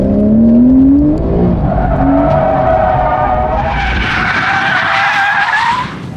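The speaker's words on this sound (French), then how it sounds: "Tu pars en tête à queue immédiat." A car spins out in a roundabout with its driving aids disconnected, its tires letting out a loud, continuous squeal that rises and shifts in pitch over a roaring engine, close by.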